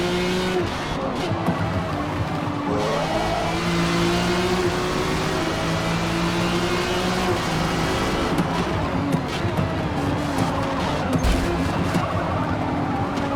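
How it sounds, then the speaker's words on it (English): A race car in a racing video game accelerates, its engine note climbing and shifting through gears in rising sweeps at close range, with tire noise and another car's engine mixed in over the course of the run. "You hear him accelerating, so you know he's not going to be able to hold his line"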